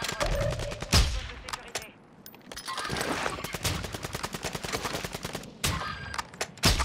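Dense bursts of automatic gunfire and heavy shots in a video game battle under a bridge, loud and close, rattling almost continuously with short pauses and a few sharp louder blasts.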